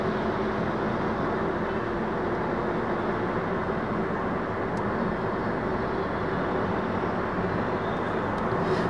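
Steady, muffled road and engine rumble inside the cabin of a 2021 Toyota Yaris ATIV with a CVT while driving, a constant low drone with no talking.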